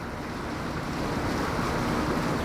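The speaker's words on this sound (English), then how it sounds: "Just listening to the water, drinking my coffee." Steady, dense rush of splashing water from a fountain in a hotel piazza fills the scene continuously, close by, with no voices over it.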